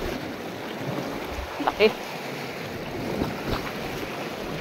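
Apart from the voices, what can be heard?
sea waves reaching a fishing boat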